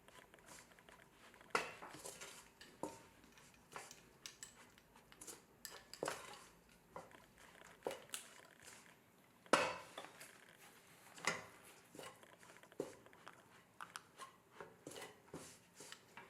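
A spoon stirs a pot of curry over low heat, making irregular clinks and scrapes against the metal with soft pauses between strokes, close by and with no talking.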